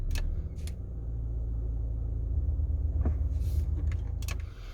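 A Volvo XC90 with an immobiliser fitted cranks and starts again, a low steady engine rumble running throughout with a few brief clicks and mechanical ticks near the end.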